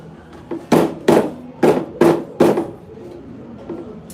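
A hammer beats the edges of a leather insole for a slide slipper: six sharp, fairly loud knocks in an uneven rhythm, then a couple of fainter taps.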